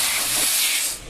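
Loud, close, continuous hiss of compressed air pushing into a car tire during a tire change, steady for about a second before easing off slightly.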